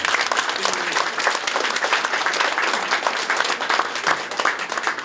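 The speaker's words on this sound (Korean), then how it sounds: "한번 큰 격려의 박수를 한번 부탁드립니다." A hall full of people claps loudly and steadily for about five seconds in encouragement at a thanksgiving service opening a memorial hall dedicated to a martyred pastor; dense, even applause with no pause.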